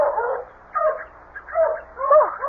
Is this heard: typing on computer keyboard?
no